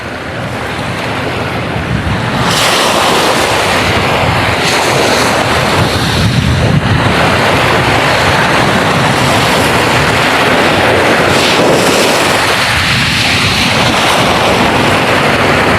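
Ocean waves at a shore near a protruding metal outfall, a loud continuous wash of surf with heavy wind buffeting, swelling in a few broad surges.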